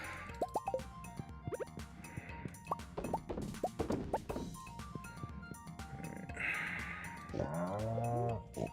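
Cattle mooing in the farming game Stardew Valley, several drawn-out moos rising over a busy backdrop of clicks, plops and other farm animal calls, with one loud, close moo near the end.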